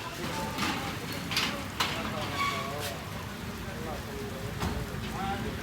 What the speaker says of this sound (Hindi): आहिस्ता आहिस्ता हल्की हल्की सी बारिश स्टार्ट हो चुकी है